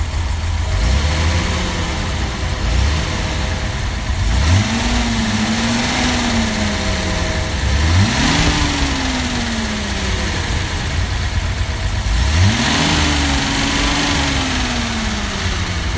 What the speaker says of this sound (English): Trying to rev it for you.